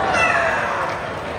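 A parrot at a bird show in Bird Paradise, Singapore imitates a cat's meow, one drawn-out, fairly loud wavering mew lasting over a second with a faint voice in the background.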